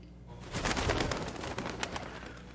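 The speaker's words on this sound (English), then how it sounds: "Cue the birds." Pigeons or doves coo softly outdoors, a low murmuring bird call rising after a quiet start and continuing faintly, heard in a scene from The Walking Dead: Daryl Dixon set in Paris.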